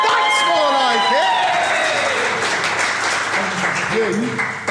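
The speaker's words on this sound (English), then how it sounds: "So if we can have a proper cheer, a proper round of applause, that's more like it." A live-show crowd breaks into loud cheering and sustained applause, a dense wash of clapping and shouts, with a voice briefly audible at the start.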